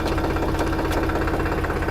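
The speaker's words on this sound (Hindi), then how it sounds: "हाई गियर में जब हम क्लच छोड़ेंगे तो ट्रैक्टर देखो ऐसा उठेगा, ये देखो।" A tractor engine runs steadily and loudly with a dense, throbbing rumble as the clutch is let out in high gear, heard close with no talking.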